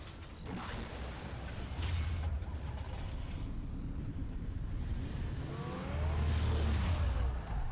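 The Batmobile in Batman: The Telltale Series, heard as a steady mechanical engine drone with creaking, whirring transformation sounds and a deeper rev that swells near the end.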